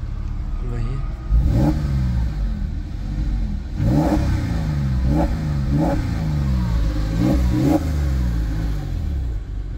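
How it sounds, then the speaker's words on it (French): A Porsche 997 Carrera 4 engine revs repeatedly in sharp bursts, about six rising roars spaced a second or so apart, loud and close over a steady idle. "vous pouvez entendre justement le son du moteur."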